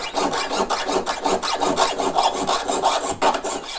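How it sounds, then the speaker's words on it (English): A fine-toothed jeweler's saw rasps steadily through sterling silver sheet in quick, even back-and-forth strokes, close up and continuous with no talking. "hold both pieces up against my bench pen as I continue or finish my sawing"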